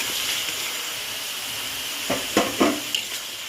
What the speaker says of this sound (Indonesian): kita masukkan semua sisa air bumbunya